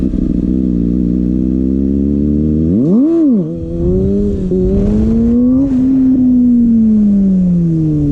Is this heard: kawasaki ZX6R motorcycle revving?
yes